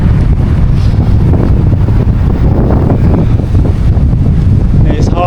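A strong headwind hits a cyclist, producing loud, constant buffeting wind roar across the microphone with no letup.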